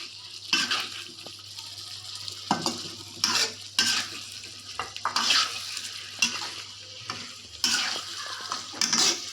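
Sambal jengkol with sugar being stirred in a pan: repeated scraping strokes of a spoon over a steady sizzle, close and fairly loud, with no voices.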